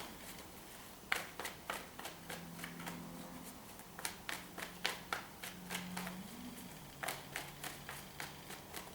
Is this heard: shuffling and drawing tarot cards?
yes